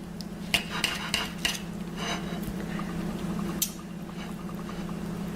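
A utensil cuts a chunk out of cooked food, cornbread or meat, in a home kitchen, giving a few sharp clinks and scrapes over a steady low hum.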